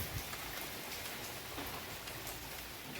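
Steady rain pours down in Bagasra, Gujarat, a continuous dense hiss of drops hitting surfaces with no voices, even and unbroken throughout.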